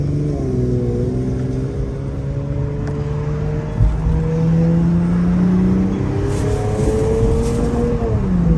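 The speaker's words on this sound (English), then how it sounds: "Just gonna give y'all a couple downshifts." A tuned 450 whp all-wheel-drive Infiniti Q50S engine hums and rumbles nearby, its pitch rising and dropping as it downshifts, with throttle blips between shifts.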